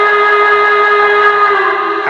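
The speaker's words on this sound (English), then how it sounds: "It's a hooter whistle, which doesn't totally make sense for a Mohawk" A hooter whistle on an MTH New York Central L4B Mohawk model train sounds one steady, loud, chord-like blast that holds for about two seconds with no break.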